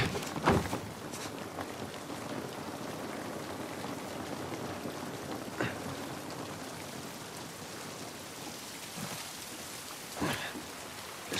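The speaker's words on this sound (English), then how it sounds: "This rain ain't gonna do us any good." Steady rain patters throughout in The Last of Us Part II on PS5, a constant wash of drops with a few sharper taps and knocks standing out now and then.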